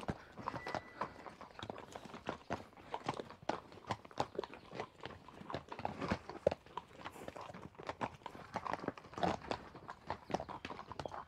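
Horses being led across slippery, sloping ground at a horse farm on Tenerife, irregular hoof clip-clops scraping and sliding close by, steady uneven steps with faint background sounds.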